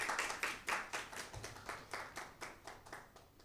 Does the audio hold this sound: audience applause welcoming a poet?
yes